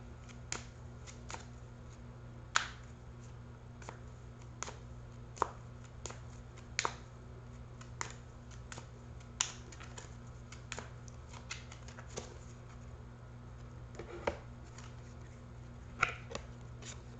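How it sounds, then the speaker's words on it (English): Oracle cards are shuffled and drawn, giving a quiet, regular series of crisp card flicks and snaps over a low steady background hum. "I am going to now pull out another card"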